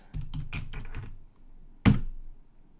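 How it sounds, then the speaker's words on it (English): Someone types an IP address on a computer keyboard, a short run of close key taps followed by one heavier thunk, likely the enter key, in a quiet room. "I'm going to type my IP address"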